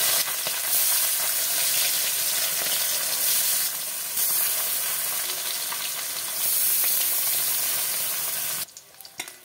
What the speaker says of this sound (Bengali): আমি এই সব মাছগুলোকে ভেজে নেব